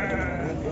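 A goat bleats at a Brazilian goat market fair in João Alfredo, Pernambuco, a close, loud, sustained wavering cry heard alone for under a second.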